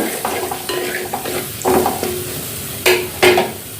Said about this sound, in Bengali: মশলাটা একটু আমি কষাতে সময় দেব।